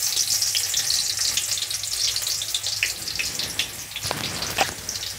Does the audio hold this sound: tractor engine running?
no